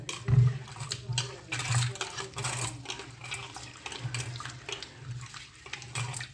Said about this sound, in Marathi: गरम पाण्यात तांदूळ देते बरं का